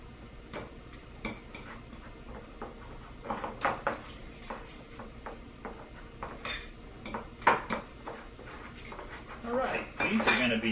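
Salad dressing gets stirred into deviled egg filling, a run of quick clinks and taps of a utensil against a bowl, growing busier toward the end.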